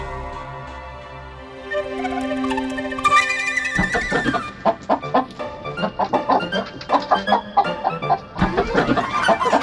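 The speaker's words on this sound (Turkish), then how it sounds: "Tavuk elimizden kaçtı." A chicken clucks in quick, irregular bursts over a steady musical background, close and fairly loud, with a sharper squawk near the end.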